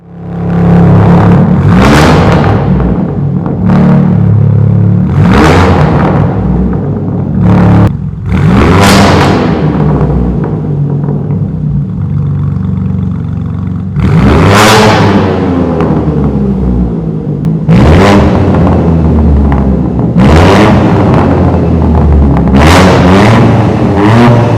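A BMW S58 engine in an X4M being revved hard in repeated sharp bursts, each rising to a raspy peak and then dropping back, very loud and close, with no speech.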